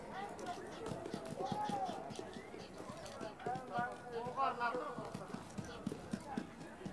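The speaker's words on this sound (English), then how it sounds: "As 500 horses reach the starting point, and the race begins." Hooves of some 500 horses pounding as a race begins, a dense, continuous clatter of many running hooves with scattered whinnies over a rumbling, busy background.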